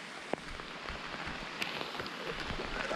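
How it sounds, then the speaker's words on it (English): Steady rain falling on a river during kayak camping, a soft, even patter of drops with occasional sharper ticks, fairly faint and alone without talk. "It's just one of those kind of relaxing rains that you get to enjoy when you're on the river."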